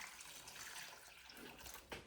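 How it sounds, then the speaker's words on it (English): Water being poured onto potted plants in a Victorian conservatory, a soft steady splashing and trickling that runs continuously and fairly faintly, with a brief louder gush near the end and no talking. "So now I'm just going to do a bit of watering."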